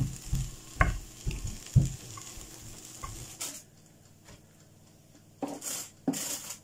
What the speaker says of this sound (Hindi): साथ में मैंने ब्रोकली बना रही हूँ अपने लिए स्टीम कर रही हूँ इसे